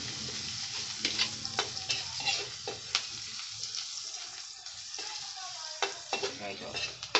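Pancit canton noodles with vegetables are stirred in a pan, with repeated spatula scrapes and knocks over a continuous sizzle, close and fairly loud, with a faint watery rush in the background.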